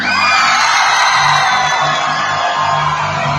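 At a tourism ambassador pageant final in Aceh, a large audience cheers and applauds the Aceh Besar regency's ambassadors, a dense continuous roar of shouts and clapping that stays loud throughout.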